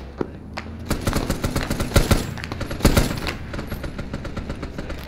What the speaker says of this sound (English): Most enemy fire seems to be coming from north, northeast.